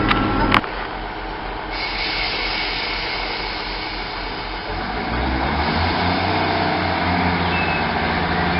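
A train pulls into Dunfermline Queen Margaret station with a loud, steady rumble of wheels and motors that shifts to a lower, humming drone as it slows, heard from inside the carriage.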